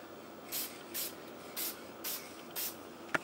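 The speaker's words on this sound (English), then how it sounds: "About 10-12 inches away, just real light spray, light strokes." A spray gun applies light strokes of paint to a DCP truck from about 10-12 inches away, producing five short, evenly spaced hissing bursts with quiet gaps between them, then a sharp click near the end.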